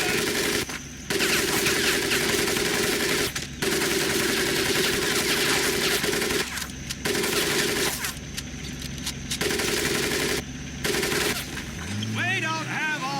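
Sustained machine gun fire from the Medal of Honor Pacific Assault video game, dense and continuous with brief gaps in the bursts, loud throughout, with a voice briefly audible near the end.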